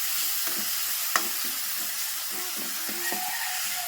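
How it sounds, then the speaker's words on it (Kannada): Salted chilli paste fries in oil over a gas flame, giving a continuous close hiss and sizzle with faint occasional stirring taps. "ಈ ಖಾರ ಎಣ್ಣೆ ಒಳಗೆ ಫ್ರೈ ಆಗ್ಬೇಕು"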